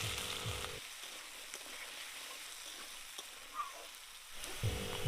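Potatoes frying in mustard oil in a kadai, a soft, even crackle and sizzle running throughout at low level, with a few faint clinks and a brief low thump at either end.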